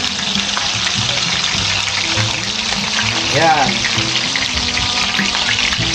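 Whole fish frying in hot, bubbling oil, a steady loud sizzle running throughout with someone speaking briefly over it.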